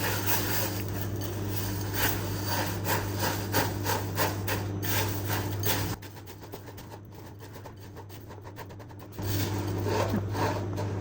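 Chocolate being stirred steadily into cereal grains for a crunchy chocolate cake, a continuous close scraping and rubbing with a steady hum underneath that drops away briefly midway.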